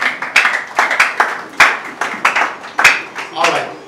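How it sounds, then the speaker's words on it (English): Wedding guests clap for a couple in a loose, rhythmic series of sharp, loud hand claps, roughly three per second, with a voice talking over them. "Clap for them."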